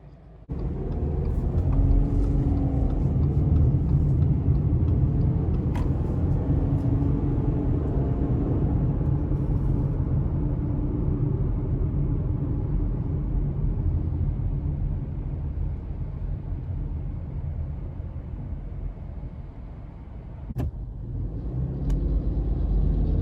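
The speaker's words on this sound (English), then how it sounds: "take this Forester out on the road for a test drive" A 2021 Subaru Forester Premium drives on the road, giving a steady, close engine and tyre rumble with road noise throughout and a slight dip near the end.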